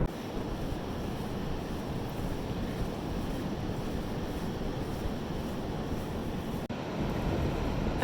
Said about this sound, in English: I can't even see the waves.